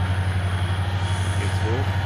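ÖBB train in the Trainz 22 railway simulator: a steady low engine drone with faint squeals from the wheels or rails, running continuously at a constant level.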